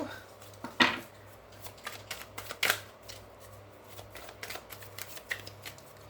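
Rider-Waite tarot cards being shuffled by hand at close range, with a few sharp riffling bursts followed by softer, scattered flicks and slides.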